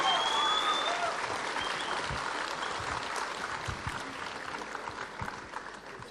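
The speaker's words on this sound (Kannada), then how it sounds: "ಇನ್ನು ಇಲ್ಲಿ ನಾವು ಚಪ್ಪಾಳೆ ತಟ್ಟದೇ ಇರ್ತೀವ?" Audience applause at the KIMA Awards 2015 ceremony, a dense burst of clapping that starts strong and gradually thins and fades over several seconds.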